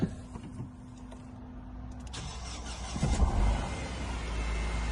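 A cold 2010 Nissan Qashqai engine turns over at about three seconds and settles into a low, steady idle with no timing chain noise, with faint clicks and mechanical noises before it starts.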